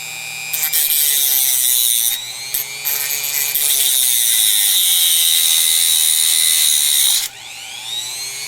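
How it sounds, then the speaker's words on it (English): A Dremel rotary tool at its lowest speed cuts a notch, producing a loud, high, shrill whine that runs in long stretches, broken by a few brief pauses and dips as the bit bites into the material. "Lowest speed. Yeah, cut a notch in it."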